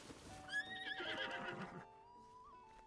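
A golden horse in the video game Zelda: Tears of the Kingdom gives a single high, wavering whinny with a few soft hoof clops, clear and close with no talk.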